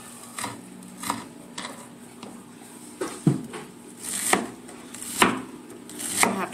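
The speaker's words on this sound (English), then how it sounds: "I have to show you guys how my mom taught me to cut onions." Knife chopping onions on a cutting board in a home kitchen, a steady series of sharp, close knocks about every half second to a second, some hits louder than others, with no talking.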